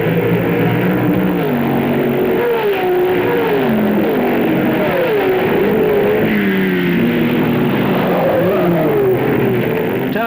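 Porsche sports racing cars on the first lap of the 1967 BOAC 500 at Brands Hatch roar past, loud engines rising and falling in pitch as they accelerate and change gear, several cars overlapping in a continuous howl.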